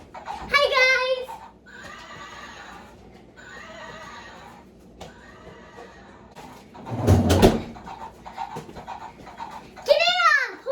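A horse whinnies loudly and close at the start and again at the end, with rising and falling calls. Between them come people's voices and a heavy blowing rustle.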